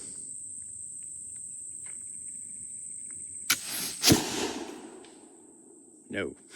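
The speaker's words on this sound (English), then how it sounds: "Let's see if I can hit a plinking target." A Pedersoli flintlock dueling pistol fires at a plinking target outdoors: a sharp crack of the pan and a loud discharge follow one another, then decay over a steady, high-pitched insect drone, with a further thump shortly after.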